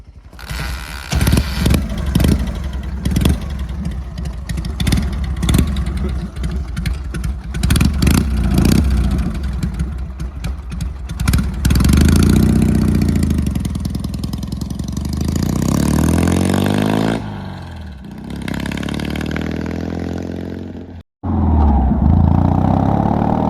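A tuned Dnepr MT motorcycle engine putters with rhythmic pulses, then revs up into a smooth continuous drone as it rides off, loud and close.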